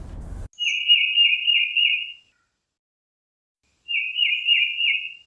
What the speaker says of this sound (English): the mnemonic that many people use to remember the tufted titmouse song is Peter